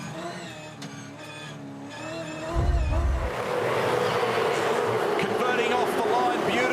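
Supercars race cars accelerating off the line at a race start, engine whine rising in pitch before a loud surge of layered engine roar that holds steady, under a commentator's voice.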